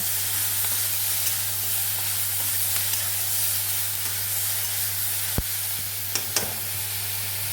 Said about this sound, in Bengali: মুগ ডালগুলো কিন্তু আস্তে আস্তে যেহেতু গ্যাস কমানো আছে আস্তে আস্তে হবে